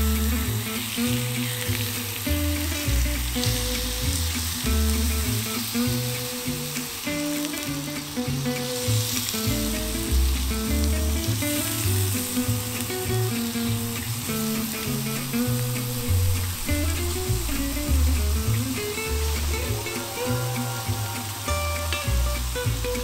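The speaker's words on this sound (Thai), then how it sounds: "เราต้องย่างเบคอนก่อน" Bacon sizzles steadily on a hot grill pan for Thai mookata, a continuous crackle that lasts throughout, with background music playing over it.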